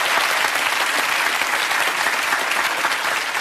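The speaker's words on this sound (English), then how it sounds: "Give him a big round of applause." Studio audience on the Millionaire Hotseat quiz show applauding, a dense, steady roar of many hands clapping that stays loud and even throughout.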